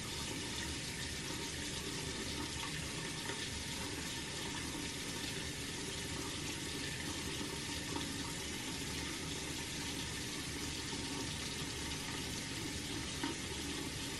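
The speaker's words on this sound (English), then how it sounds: "And then I rinse this out and I hang it up" Tap water runs continuously while a microfiber body cloth is rinsed at a sink, a steady hissing splash lasting the whole stretch with no talking.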